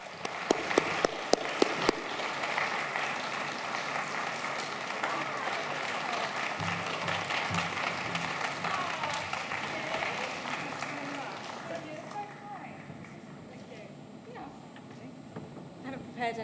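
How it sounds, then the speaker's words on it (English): Sustained audience applause at a design awards finals event in London as a recipient comes to the stage, dense and steady throughout, thinning slightly near the end, with a few sharper claps at the start. "A big round of applause for Natalie Wells"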